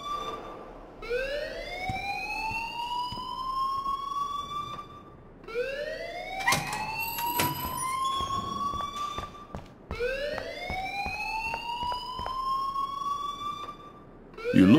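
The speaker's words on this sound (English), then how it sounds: "please turn off that alarm since that's your job" A school alarm in the Life Is Strange video game wails in repeated rising sweeps, three long cycles in a row, loud and continuous with sharp clicks and clatter between the sweeps and no talking over it.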